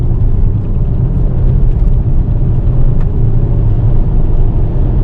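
A car accelerates on light throttle, its engine giving a loud, steady low rumble from inside the cabin with no talk.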